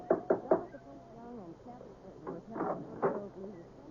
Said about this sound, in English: There was a big brass knocker on the front door.